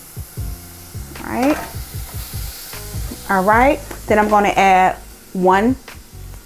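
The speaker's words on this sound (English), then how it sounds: "Do y'all hear that sizzle?" Pineapple pieces sizzling and frying in a hot pan with basil, a steady crackle under a woman's nearby speech.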